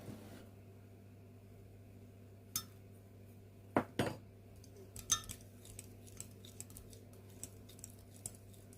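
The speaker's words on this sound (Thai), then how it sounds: "คนส่วนผสมให้เข้ากัน" Sparse clinks and scrapes of a utensil stirring an egg mixture in a bowl, a few sharper knocks amid quiet, with a steady low hum underneath and no talking.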